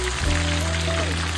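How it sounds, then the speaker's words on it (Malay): Tofu deep frying in hot oil over high heat, a loud, dense, steady sizzle and crackle up close, with a faint low hum running beneath it. "Waktu kita goreng untuk buat tahu crispy ni"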